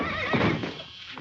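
A horse whinnies in a 1949 comedy film scene, a loud, wavering neigh that rises and falls over about a second before trailing off, with faint hoof clatter beneath.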